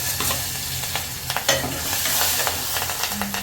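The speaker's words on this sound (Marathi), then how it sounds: "हळद आणि हिंग टाकणार आहे त्याच्यानंतर मिरची कडीपत्ता" Turmeric, asafoetida, chilli and curry leaves hit hot oil for a tempering, giving a loud, close, continuous crackling sizzle with small spits and pops, and no talking.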